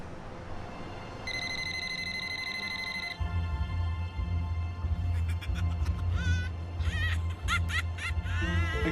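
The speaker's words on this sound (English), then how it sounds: "It's your phone. It's your phone call. Answer it." A telephone rings indoors with bright repeated electronic chirps over a steady low background hum, loud and close, with no speech over it.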